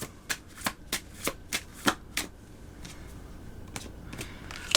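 Oracle cards are shuffled by hand, a quick run of crisp riffling snaps at first, then softer, looser shuffling, close up with no voices.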